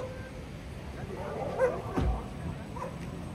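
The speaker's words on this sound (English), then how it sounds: "that's one of the like 7 black stray dogs that live in this empty lot behind us" A black stray dog from an empty lot in Mexico City gives a couple of short, fairly distant barks and yips over a steady outdoor background hum.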